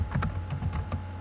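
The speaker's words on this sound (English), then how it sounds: "We're going to type in healthy" Typing on a computer keyboard: a short burst of about half a dozen soft, evenly spaced key taps, close and fairly quiet.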